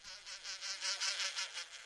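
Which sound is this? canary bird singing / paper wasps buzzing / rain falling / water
paper wasps buzzing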